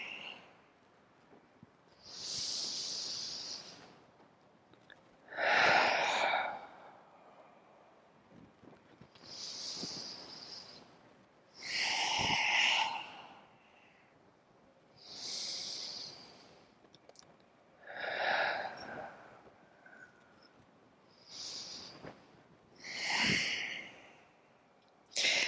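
Slow, deep breaths during a yoga flow, each long inhale and exhale rising and falling in a steady rhythm, close and clear with quiet gaps between, about eight breaths in all.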